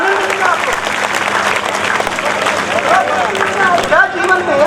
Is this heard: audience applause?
yes